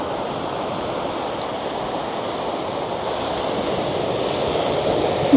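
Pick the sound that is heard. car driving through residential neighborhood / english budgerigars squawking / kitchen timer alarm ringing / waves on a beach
waves on a beach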